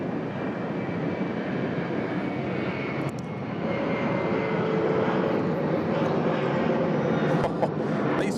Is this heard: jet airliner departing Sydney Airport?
yes